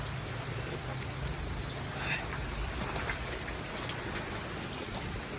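Rain falls steadily outdoors, a soft, even hiss of drops with faint patters on surfaces, moderately distant and unbroken throughout.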